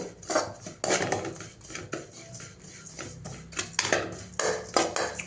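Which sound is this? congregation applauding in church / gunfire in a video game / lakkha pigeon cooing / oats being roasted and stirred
oats being roasted and stirred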